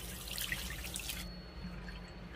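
Sticky hands are rinsed under tap water, a short close splash and trickle that stops partway through, leaving a quieter dripping room tone.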